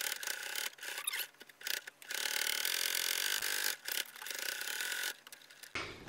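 Thick, multi-layer fabric of a reversible snuggle sack feeds through a sewing machine on a long stitch length. It makes a close, raspy stitching buzz in several bursts with brief pauses between them, and no talking.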